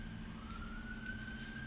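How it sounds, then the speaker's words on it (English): A fire engine siren wails steadily in the distance, holding a thin, slowly rising tone over a constant low background hum, with no talking. "I don't know if you hear the sirens in the background."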